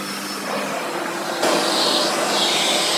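A bagless vacuum cleaner runs steadily, sucking up scattered debris like rice, with a continuous whine that grows louder and brighter partway through as it picks up more material.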